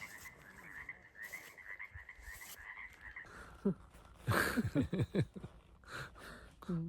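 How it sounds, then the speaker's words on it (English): Frogs croak in a busy outdoor chorus at Lightning Lake, a steady trilling background with louder close croaks bursting in repeatedly toward the end. "Listen to the frogs."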